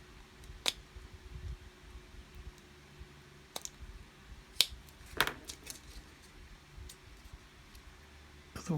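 Scissors snipping around the trim line of a clear polycarbonate body shell for a Tamiya 1/10 RC GR Yaris, a handful of sharp close clicks spaced irregularly over a quiet background.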